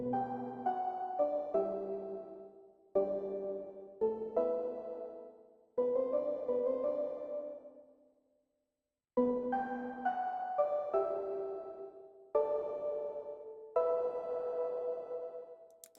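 Two slightly differently tweaked copies of the same synthesizer preset layered together play a melody of bright sustained notes in phrases, with a short gap partway through and no voices.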